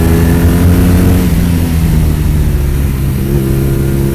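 A 2016 Triumph Thruxton 1200 motorcycle with cowl and clip-ons, or a 2018 BMW R nineT Racer, engine pulling hard on a mountain road, a loud continuous close-up drone whose pitch shifts as the throttle changes.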